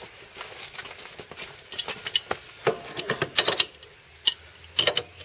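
Wrench gently tightening a nut on the aluminium engine of an articulated lawn tractor, giving irregular metallic clicks and ratcheting taps close by, with short pauses between turns.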